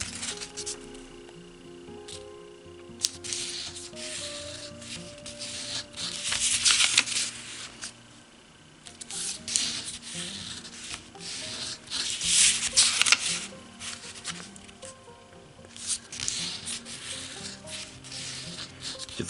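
Origami paper folded by hand at close range, with repeated soft rubbing and crisp creasing swipes in uneven bursts, some louder than others, and no speech.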